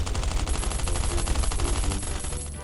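Light machine gun in Last Island of Survival fires in a dense, continuous rapid burst, loud and close, with no pauses and no voices.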